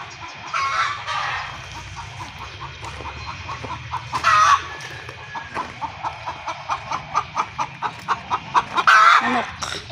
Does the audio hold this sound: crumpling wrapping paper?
no